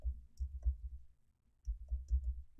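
Rapid computer keyboard typing, quiet and close, in two short bursts of clicking keystrokes separated by a brief pause.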